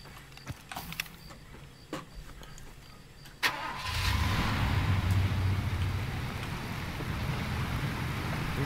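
A truck engine in the shooter Far Cry 2 cranks and catches after a few clicks and knocks, then settles into a steady mid-pitched idle rumble, close and continuous.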